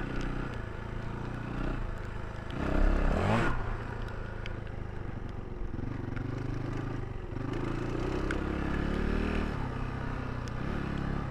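A Yamaha WR400 enduro motorcycle ridden through wet conditions, its engine droning steadily throughout with a brief louder rev burst near the start, heard from on or near the bike with no talking.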